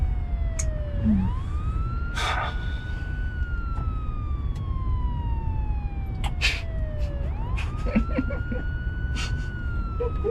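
A police car siren wails in long rising and falling sweeps, fairly close and loud over road noise, with a few sharp clicks and knocks in between.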